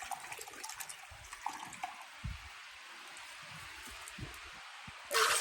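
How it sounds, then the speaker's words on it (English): Vinegar pours into a measuring cup while pickled beets are prepared for canning, giving a faint, steady liquid trickle with small splashes and a louder rush of pouring right at the end. "I'm going to need 12 cups of vinegar. So I'll just measure this out."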